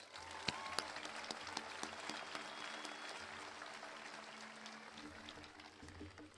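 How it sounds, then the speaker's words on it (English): Sustained applause from a large crowd at a high school graduation, many hands clapping steadily with a few sharper claps standing out, heard from some distance in a reverberant hall. "Let's give them one more round of applause"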